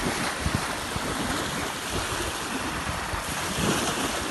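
Wind-driven waves on the Sea of Azov wash and break near the shore, with gusting wind buffeting the microphone, a loud, rough, continuous surf.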